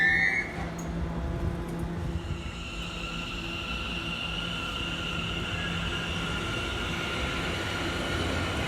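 A passenger train pulls away along the West Coast Main Line toward Euston, giving a continuous, fairly loud rolling rumble with a faint high whine, heard alone without voices.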